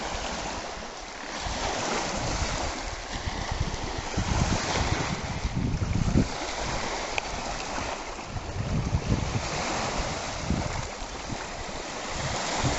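Continuous wash of waves on the sandy, pebble-bottomed shore of Lake Superior on a sunny day, steady and moderately loud, with gusty wind buffeting the microphone throughout.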